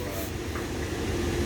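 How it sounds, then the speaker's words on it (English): CSX freight train slowing to a stop, a faint, distant steady rumble with soft hissing and rolling noise, heard alone. "Yep, train stopping."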